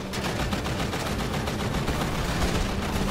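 Rapid bursts of gunfire from GTA V Online crackle steadily and densely for the whole stretch, at a moderate level, with no talk over them.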